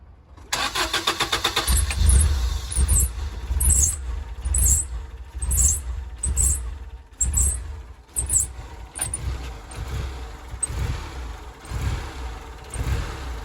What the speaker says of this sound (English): I'm gonna try starting her up and just see what happens.